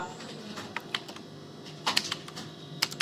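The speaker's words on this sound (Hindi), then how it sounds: "मैं यहाँ पे टाइप करके दिखाता हूँ आपको।" Keys clatter on a computer keyboard as names are typed into a Microsoft Word document, a few scattered, fairly faint clicks in short bursts over a low background hum.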